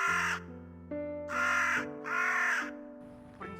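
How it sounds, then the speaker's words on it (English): Crow cawing in a school stage drama, three or four harsh, drawn-out caws in a loose rhythm over a steady hum, loud and close. "The witch turned into a crow."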